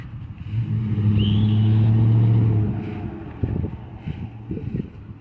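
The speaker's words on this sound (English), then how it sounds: "Loud ass freaking truck." A heavy truck roars past close by, its engine swelling loudly then fading away, followed by softer rumbling and wind.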